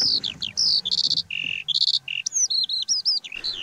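A songbird sings over fields and meadows in a rapid, continuous run of bright chirping and warbling phrases, loud and close with almost no pause.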